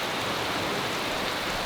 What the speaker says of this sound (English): This evening, crazy rain.